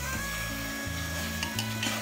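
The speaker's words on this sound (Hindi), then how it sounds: "बस इसको आपने ऐसे ही चलाते रहना है 5 से 8 मिनट तक।" Bhuna chicken being stirred as it fries in a pan in village-style cooking, with a quiet, steady sizzle and faint scraping beneath a tonal musical backing.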